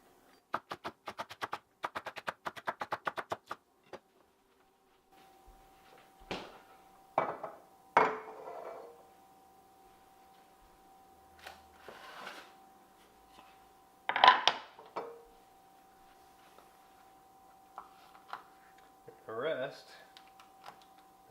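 A knife chops green onions and other vegetables on a cutting board, starting with a fast run of even taps and then moving to scattered, heavier single chops, close up and fairly quiet.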